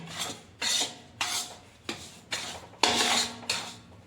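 Gram flour (besan) roasting in a pan for alsi pinni is scraped and stirred in about seven rhythmic, rasping strokes, close and fairly quiet, with no talk.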